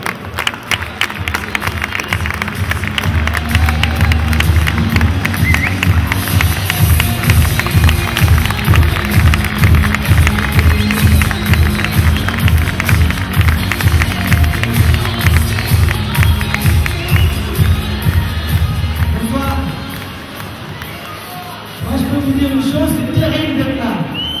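An audience at a Success Day gathering applauds a guest speaker who came from far away, with sustained dense clapping and cheering from a large crowd that fades briefly near the end, then swells again.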